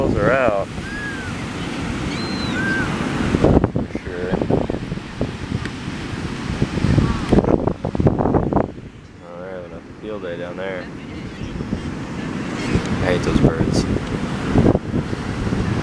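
Waves breaking and rolling on a beach at sunset with gusting wind buffeting the microphone, surf surging and receding in uneven swells, with a few high bird calls and brief talk over the wash.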